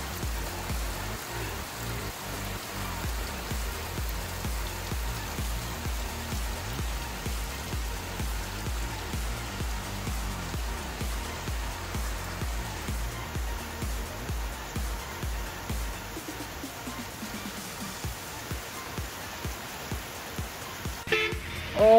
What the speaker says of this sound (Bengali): বৃষ্টিতে আটকা পড়লাম ঠাকুরগাঁও থেকে জাস্ট 20 কিলোমিটার আগে